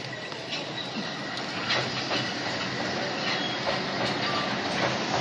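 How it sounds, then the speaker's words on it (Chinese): Alishan mountain railway train descending the mountain toward Shenmu, pushed from behind by its locomotive, heard as a steady broadband rumble of rolling stock with faint clicks and squeaks, continuous and fairly loud throughout. "那看到火车下山，他要去神木"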